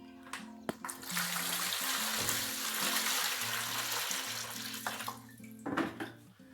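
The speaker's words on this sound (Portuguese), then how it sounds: "vou colocar um pouco de água aqui" Tap water pours steadily into a houseplant container for several seconds, a close, continuous rushing splash that stops near the end with a few clinks and tonal hums underneath.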